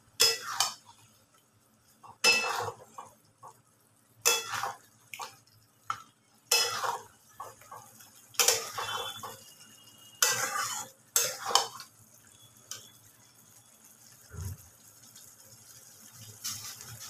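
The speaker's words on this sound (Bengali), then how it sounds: "এবার গ্যাসটা একটু বাড়িয়ে দিয়ে এটাকে ভালো করে কষিয়ে নিতে হবে।" Masala paste for milk chicken stir-fried in a pan over raised heat, with a spatula scraping and clinking in regular bursts about every two seconds, quiet between strokes and a faint sizzle beneath.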